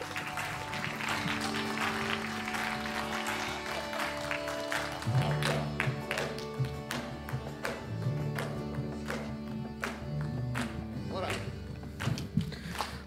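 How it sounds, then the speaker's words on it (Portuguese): An audience at a MasterMind personal-development event applauds a presenter walking on, moderate clapping under stage music with thumps and footsteps, and voices partly audible through it. "Senhoras e senhores, palmas!"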